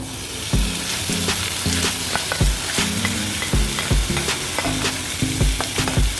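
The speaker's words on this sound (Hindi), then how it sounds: "कीमा को थोड़ा सा अभी हम करेंगे फ्राई" Minced beef (keema) sizzles and fries steadily in a pan, with a continuous close crackle broken by regular clinks and scrapes of a spoon stirring against the metal, with no voices.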